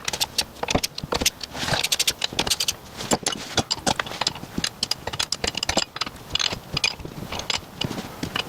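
Wrench tightening nuts on an old jet ski engine, a rapid series of sharp metallic clicks and ratcheting taps, close and irregular, with short pauses between bursts.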